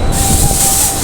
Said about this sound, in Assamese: এয়া চাওক ডিব্ৰুগড় ট্ৰেইন ষ্টেচন